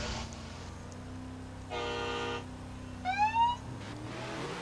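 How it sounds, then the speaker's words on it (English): Two cars honk their horns before a drift race at Byron Bay East, a flat sustained blast followed by a second horn with a wavering, rising pitch, over idling engine rumble. "Drivers honk when ready."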